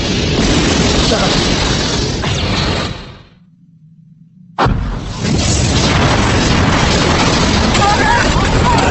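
A loud anime explosion effect, a booming burst that cuts to near silence with a low hum, then a second roaring blast of rumbling debris that carries on to the end.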